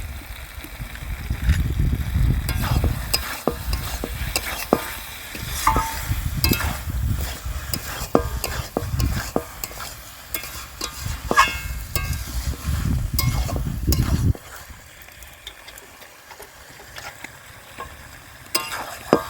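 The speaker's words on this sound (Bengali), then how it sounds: "খুব ভালো করে মশলার সঙ্গে আলু ডাঁটা কষে নিয়েছি" Potatoes and drumstick pieces sautéed with spices in a pan, loud close sizzling with repeated scraping stir strokes and clatter, easing to a quieter simmering hiss near the end.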